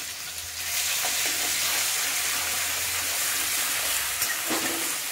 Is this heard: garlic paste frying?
yes